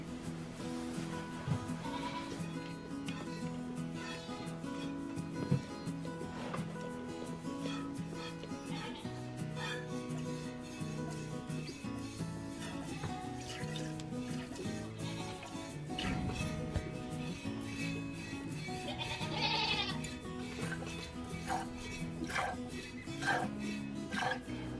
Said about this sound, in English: it's a little less enjoyable to milk goats twice a day